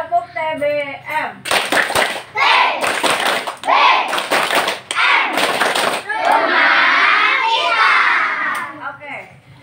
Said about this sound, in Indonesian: sekali lagi. Tepuk TBM.